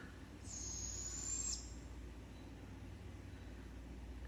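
An owl calls once, a high, thin, steady tone lasting about a second, heard faintly over a low rumbling outdoor background, with no talking.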